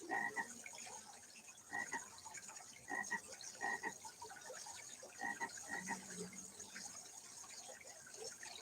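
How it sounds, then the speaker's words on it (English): A frog croaks outdoors in repeated short bursts, several calls in an irregular rhythm against quiet natural ambience with a faint watery trickle in the background. "there was a frog by our foot."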